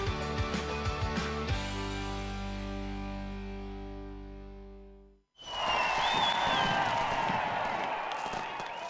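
A canned cheering effect: a sustained crowd roar with whistles and shouts swells in abruptly after a fading musical chord and a brief gap, loud and steady to the end.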